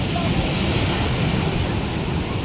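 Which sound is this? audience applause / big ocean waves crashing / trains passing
big ocean waves crashing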